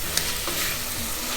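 Carrots and beans for sambhar stirred in a hot pan, a steady close sizzle with scraping and tossing throughout, no voices.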